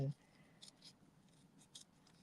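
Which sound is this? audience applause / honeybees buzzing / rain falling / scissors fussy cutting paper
scissors fussy cutting paper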